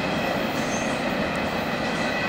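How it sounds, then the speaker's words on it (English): A long Norfolk Southern freight train rolls past near Charlotte, a loud, steady, continuous rumble of railcars with wheel noise throughout and no voices. "NS218's train south from Linwood down to Charlotte."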